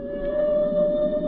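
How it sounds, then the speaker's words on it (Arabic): A humpback whale sings off the Virgin Islands, a sustained tonal moan holding one steady pitch over a hissing underwater background, loud and unbroken. "تمر الحيتان الحدباء قبالة جزر فيرجن كل سنة، وأغانيها معقدة جدا."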